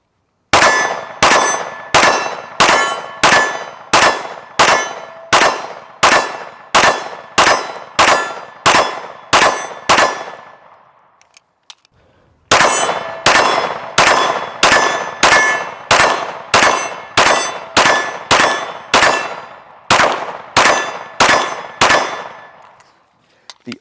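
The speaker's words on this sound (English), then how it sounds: "So I'm gonna shoot them back to back." A Springfield Echelon Compact and a Glock 19 fire back to back on iron sights at an outdoor range: two strings of a dozen or so loud, sharp, evenly spaced pistol shots separated by a short pause.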